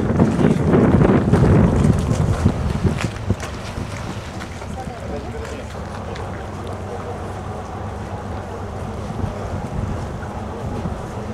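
A passenger motor boat cruising on its first run between Bilhorod-Dnistrovskyi and Ovidiopol, its steady engine rumble and water rush blended with heavy wind buffeting, loudest at the start and then settling into a constant roar.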